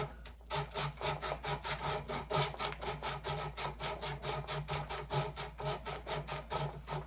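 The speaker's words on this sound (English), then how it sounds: "To get that nice wet sanding." Rhythmic back-and-forth wet sanding strokes on steel with oiled 220-grit sandpaper, about two or three per second, rasp steadily at close range with no voices.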